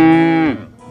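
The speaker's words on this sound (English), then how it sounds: "The cow went moo," One loud, close cow moo, a sustained low bellow lasting about half a second that drops off sharply and fades, heard alone.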